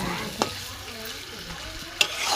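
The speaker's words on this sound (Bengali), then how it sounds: "উপরে দিয়ে ভালো করে কষবো মাংসটাকে সুন্দর করে অনেকক্ষণ ধরে কষতে" Chicken meat being sautéed and stirred in a pan for a Bengali thin chicken curry, a low steady sizzle broken by two sharp scraping clinks of the spatula, close by with no talk.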